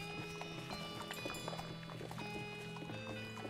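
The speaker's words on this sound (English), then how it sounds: "Poker numpty whinnies at your approach." A horse in the video game West of Loathing clip-clops with soft hoof steps under a faint, steady game-music backdrop, quiet and close.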